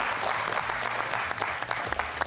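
Studio audience applause on a TV quiz show, a dense, continuous wash of clapping at a steady level for a couple of seconds.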